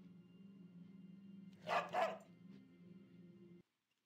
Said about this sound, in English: you'll see the dog right here